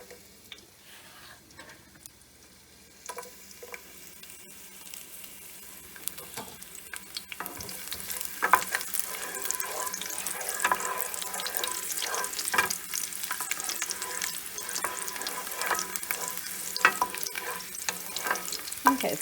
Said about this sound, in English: Okay, so we want to get this kind of sizzling.